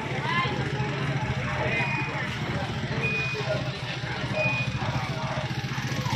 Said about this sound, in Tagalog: May kasama ang truck ang clearing operation.